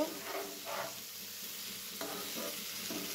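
Paneer pieces frying in ghee in a pan, a soft steady sizzle with stirring scrapes coming in short bursts, close and fairly quiet, with no talking.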